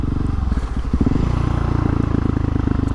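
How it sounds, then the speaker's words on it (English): A Husqvarna 701 Supermoto motorcycle engine pulses in rapid, loud bursts as the bike is ridden doing wheelies, with a choppy throttle and some clatter. "So I just wanted to get some wheelies in."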